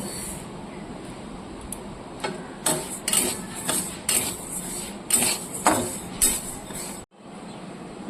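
Dry moong dal tossed in an empty hot wok, with a run of rattling, scraping spatula strikes against the pan in uneven bursts before an abrupt stop.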